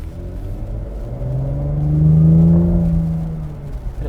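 A 2020 Cadillac CT5-V engine with a ten-speed gearbox revs up in one smooth, loud rise that peaks midway and then eases back, a deep rumble heard close with no talking.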